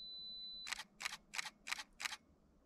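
A camera shutter fires five times in a quick, evenly spaced burst, each a crisp close click, after a faint high electronic tone from the 2-second self-timer, in an otherwise quiet setting.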